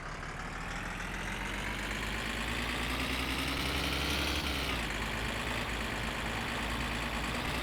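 A car engine runs continuously while driving in My Summer Car, a steady rough drone with slight pitch shifts as the revs change, heard alone at a moderate distance.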